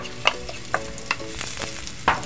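Garlic and then onions frying in oil for ngohiong, with stirring: a steady sizzle, broken by a few sharper scrapes and clatters from the utensil against the pan, close by, with no talking.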